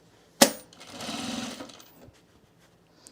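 Sewing machine stitching men's cargo shorts, a sharp click followed by a short, even run of stitching about a second long that fades out, alone with no voices.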